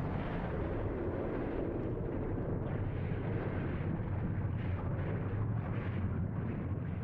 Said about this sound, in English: An explosion so powerful that it blew a 32-square-mile wide crater out of the center of the island.